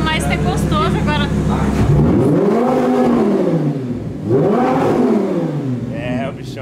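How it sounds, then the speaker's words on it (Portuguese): Audi R8 engine revving hard up to the rev limiter, rising and bouncing in two long loud sweeps with a rough, buzzing tone close to the microphone, with people talking over it. "Ela já chega cortando giro. Vamos cortar o giro."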